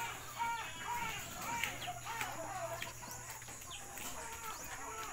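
Chickens cluck and call in a backyard coop behind a small store, faint and somewhat distant over a steady background hum, with no one speaking.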